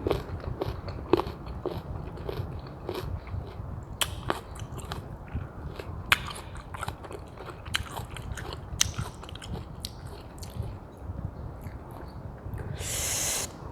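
Crisp, wet bites and chewing of mango eaten with sweet fish sauce, repeated crunchy bites spaced through the clip, close up with no talking.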